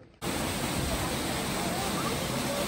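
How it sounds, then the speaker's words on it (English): Waterfall at the Spring of David in Ein Gedi roars in a steady, dense rush of falling water that starts abruptly and stays loud and unbroken throughout. "So I think this is now called the stream or the Spring of David. This is one of three waterfalls"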